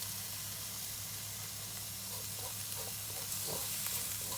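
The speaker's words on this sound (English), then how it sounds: "And now we're going to add in the garlic. And the chili flakes." Garlic and chili flakes sizzle in a hot pan for a shrimp and noodle stir fry, a close, steady hiss with faint crackles and a low hum underneath.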